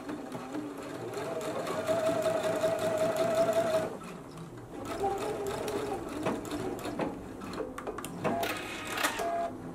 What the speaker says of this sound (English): go ahead and stitch it at a half an inch seam allowance